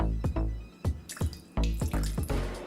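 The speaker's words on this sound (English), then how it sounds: "I'm just gonna add a little bit of water" A small splash of water is poured into a bowl of salted eggs, giving quick dripping and trickling sounds close and fairly quiet.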